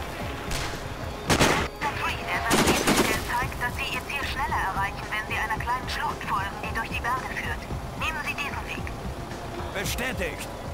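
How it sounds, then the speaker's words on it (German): Gunfire in the video game Sniper Ghost Warrior, a few sharp loud shots near the start and middle, heard under steady talking over game background noise. "Der Schuss muss sitzen."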